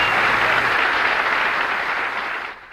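Sustained crowd cheering and applause for hometown bowler Danny Wiseman at a professional bowling tour event, a dense, steady roar that holds for a few seconds before fading out at the end.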